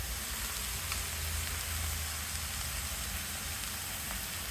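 Coarsely ground masala hits broad beans frying in a hot pan over high heat, giving a steady, dense sizzle and crackle throughout, close and moderately quiet, with no talking.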